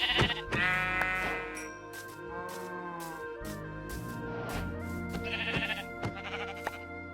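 Sheep bleat repeatedly in a Minecraft world, a series of short, fairly close calls with brief gaps between them, standing alone without talk over a quiet game background.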